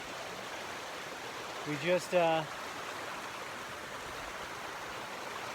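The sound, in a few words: creek water flowing over boulders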